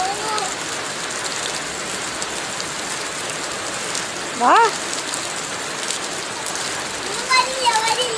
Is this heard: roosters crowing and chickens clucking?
no